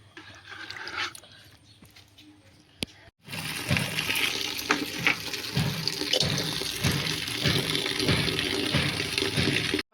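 A muddy bucket is washed under a running tap: after a quiet start, water suddenly gushes loudly and steadily, with rhythmic scrubbing strokes heard through the flow.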